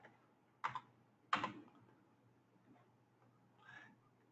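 A few soft, separate keystrokes on a computer keyboard, typing a web address into Google Chrome, tap quietly and close at irregular intervals against low background hum.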